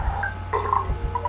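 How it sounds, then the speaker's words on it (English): Burp in the Earthbound video game: a short, low, gurgling belch-like sound effect over a steady background hum, with no talking. "Burp."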